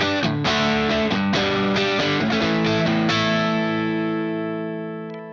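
A James Tyler JTG MK1 electric guitar played on the neck pickup with the mid boost off, a run of loud, distorted picked notes and chords that ends in a long ringing chord fading out.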